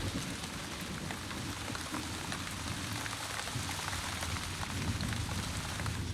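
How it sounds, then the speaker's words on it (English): Steady, heavy rain pours down continuously, a dense hiss of drops drumming on surfaces with a low rumbling undertone throughout. "Pouring rain and blowing a hurricane ever since."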